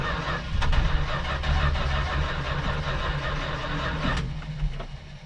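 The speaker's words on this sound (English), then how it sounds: "we're ready to start the car" A car engine starts for the first time, cranking and catching, then idles and revs unevenly at close range with no talk over it.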